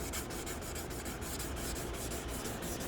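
Steady, continuous rasping of sandpaper worked along the edge of an RV dining table, close and even in level, with a dense hiss and no pauses or talking.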